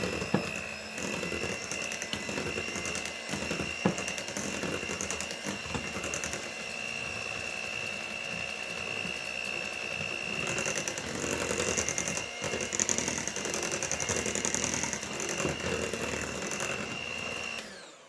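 Strawberries and cream with sugar being mixed in a bowl by an electric mixer, a steady whirring mechanical drone that runs for the full length with a few brief knocks and no talking.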